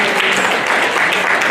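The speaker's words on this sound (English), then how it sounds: "And haters are clapping" A workshop audience on positive masculinity breaks into loud, sustained clapping, a thick wash of many hands with no pause.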